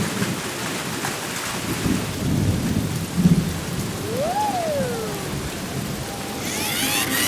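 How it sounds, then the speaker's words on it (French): Rain and a thunderstorm in an animated cartoon: steady rainfall with low rumbling thunder, a whistling gust sweeping through and a sharp crackle near the end. "Il commence à pleuvoir."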